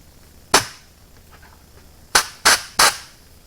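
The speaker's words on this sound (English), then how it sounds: "See if we can use a little bit of air pressure to force these out." Short, sharp bursts of compressed air blown at stuck brake pistons on a 1951 Dodge M37: one loud blast, a pause, then three quick hissing pops close by.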